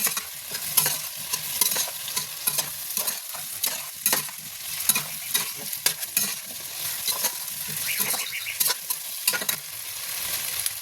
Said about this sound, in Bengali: একটু হালকা ভাজা করে নেবো নেড়ে চেড়ে